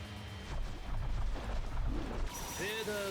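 Bleach Brave Souls fires off a soul bomb special attack in a flurry of loud crashing impacts and booms, after which bright chiming effects ring out under a voice speaking.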